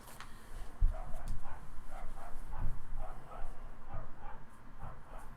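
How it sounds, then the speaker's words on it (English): A dog barks repeatedly from the room above, muffled and moderately loud, in irregular bursts of yips and woofs with a few whimpers between them. "Now it's the dog directly above me"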